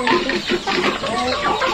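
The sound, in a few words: KOB chickens clucking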